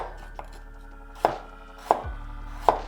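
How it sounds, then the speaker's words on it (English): A knife slicing a large piece of ginger on a cutting board: three sharp, distinct chops spaced roughly evenly, close and clear against a quiet background hum, with no talk. "Slice a large piece of ginger."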